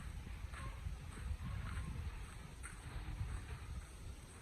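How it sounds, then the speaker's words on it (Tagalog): Continuous low wind rumbling and buffeting outdoors near the seashore, with a faint watery wash in the background and no talking. "Dito ang hangin."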